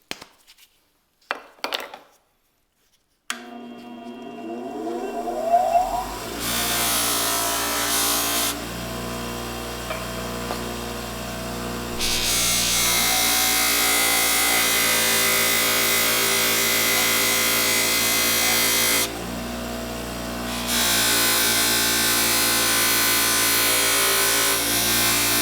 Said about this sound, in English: I'm using a cotton buffing wheel and this number 5 compound